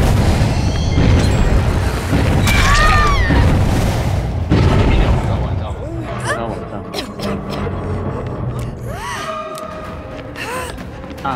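Deep booms and bursts from cannon fire in a video game, layered with game effects, while people talk over the action.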